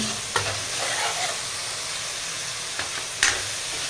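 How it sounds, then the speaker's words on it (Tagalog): Tomatoes sizzle steadily while being sautéed in a frying pan as a utensil scrapes and stirs a few times, close and fairly loud, with no talking. "Gisa-gisa ulit. Hanggang medyo matunaw na ang kamatis"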